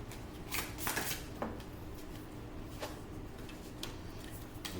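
Tarot cards are shuffled and drawn close up in a quiet room, with soft riffling bursts and light taps and flicks scattered across several seconds, and no talking.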